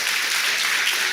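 A church congregation at a family service applauding, a dense wash of many hands clapping together, steady and fairly loud throughout the brief moment with no distinct voices.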